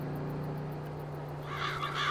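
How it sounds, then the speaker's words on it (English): A crow caws a few times in Farming Simulator 22 against a steady low hum, the calls growing clearer toward the end. "Come on, crows, get out of the way."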